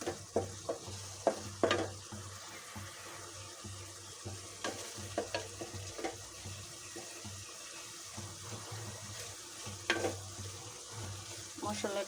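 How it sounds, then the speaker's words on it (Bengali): Fish frying lightly in a pan, a soft steady sizzle with scattered clinks and scrapes of stirring and some faint background water sounds. "হালকা ভেজে রাখছি।"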